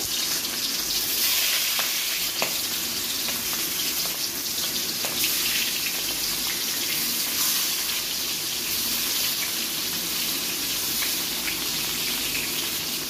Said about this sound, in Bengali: মাছের পিসগুলো দিয়ে এখন ভেজে নেব